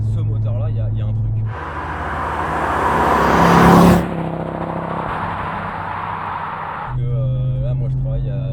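An Audi 200 Quattro Turbo's engine rises loudly in a broad rushing roar that swells for a couple of seconds, then cuts off into a lower drone before a steady hum returns; no words are audible.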